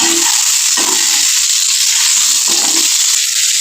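A potato snack fries in hot oil, giving a loud, steady hiss and sizzle with faint bubbling throughout.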